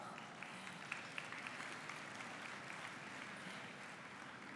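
A crowd applauds at a Beacon Press report gathering in 2018, a steady, dense patter of clapping that holds evenly for the whole stretch without a clear start or fade.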